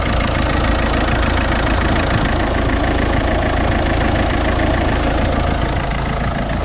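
A warm Citroen C5 1.6 HDi diesel engine idles steadily at running temperature, a close, continuous even rumble with no talk.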